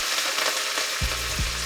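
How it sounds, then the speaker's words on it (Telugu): Curry leaves crackle and sizzle in hot oil during tempering for ridge gourd dal, along with chana dal and dried red chillies: a steady dense sizzle, then a sharp burst of spattering as the leaves hit the oil. "ఇప్పుడు అందులోకి 3 రెమ్మల కరివేపాకు వేసుకోండి."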